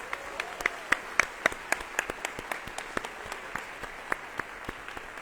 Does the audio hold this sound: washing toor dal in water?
no